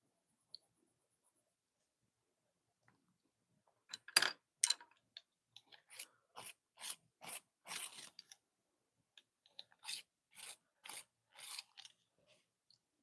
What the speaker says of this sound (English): let me just give all of these a good sharpen before I get in here.